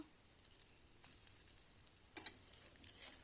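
Fish fries in hot oil in a pan over a gas flame, giving a faint, steady sizzle with scattered small pops and crackles throughout.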